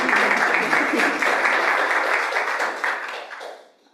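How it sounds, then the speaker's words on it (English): Audience applause fills a school board meeting room, a steady dense clapping from the crowd that holds for several seconds, then thins and fades out toward the end. "Big round of applause."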